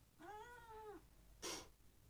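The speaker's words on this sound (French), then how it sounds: "Bah oui, miaou à toi aussi." A cat gives one clear, drawn-out meow, followed by a short breathy, raspy cry. Both are fairly quiet and close, with no talking.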